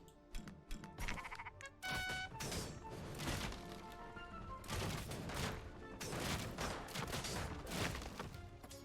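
Sheep bleating in the video game Commander Quest, heard among dense, crackling bursts of game effects that sound like rapid gunfire and splintering hits.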